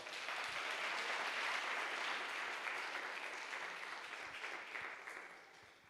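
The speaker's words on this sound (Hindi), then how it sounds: "जोरदार ताली बजाओ।" An audience at a Christian sermon claps loudly in sustained, dense applause that holds steady and then fades slightly at the end.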